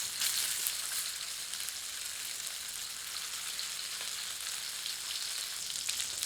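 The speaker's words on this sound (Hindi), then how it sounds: "सारे कोफ्तों को तेल में डालकर तलते हैं।" Chicken koftas deep-frying in oil over low to medium heat, a dense, continuous hiss of bubbling sizzle that holds steady and fairly loud, with no voices.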